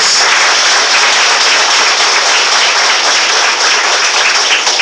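Steady, dense applause from a large church congregation fills the space, sustained at an even loudness throughout with no voices on top.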